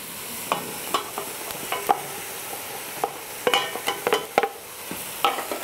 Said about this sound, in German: Und wenn es überall so ein bisschen angebraten ist, können wir die Zwiebeln dazugeben.